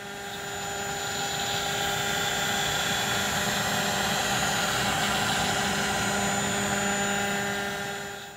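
A CNC cutting machine in a sculpture and design workshop runs with a steady, loud mechanical whine and hum. The sound ramps up, holds constant with sustained tones, then fades at the end, with no talk.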